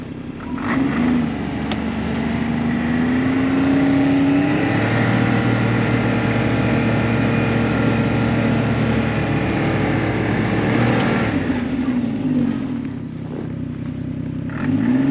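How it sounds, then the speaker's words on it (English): A vehicle driving down a trail on an off-grid homestead, its engine droning steadily and loudly up close, with changes in pitch as it speeds up and slows, and no talking. "I'm driving down the trail"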